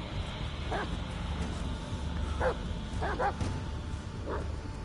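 A dog in the Blair Witch video game gives a few short, scattered yips and barks at moderate distance over a steady low ambient drone.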